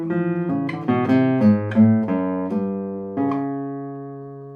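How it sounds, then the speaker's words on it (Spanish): Spanish classical guitar notes plucked one after another, each ringing round and clear with long sustain, the last note fading slowly on its own. "se puede escuchar que la cuarta cuerda también responde muy bien y tiene un sonido muy redondo"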